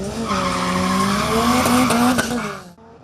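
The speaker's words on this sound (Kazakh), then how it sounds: "Машина, мотор ве көпчек сеслері старттанда ұзақ ерлерде ешітіле." Race cars screeching at a start, with loud tire squeal and rising engine whine sweeping upward in pitch over about three seconds before cutting off abruptly.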